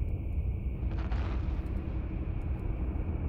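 Missile explosions in the space game EVE Online, a steady rumbling boom bed with a brief brighter burst near the middle, dense and continuous rather than separate blasts.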